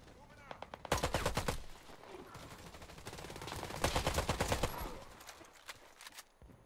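Rifle fire in the video game Warface cracks in rapid automatic bursts, loud and near, with brief pauses between strings of shots.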